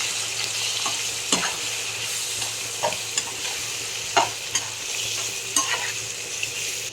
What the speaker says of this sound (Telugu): ఇదిగోండి ఫ్రెండ్స్, తాలింపు వేసాను.